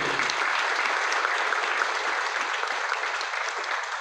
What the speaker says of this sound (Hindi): एक बार आप सबके लिए जोरदार ताली हो।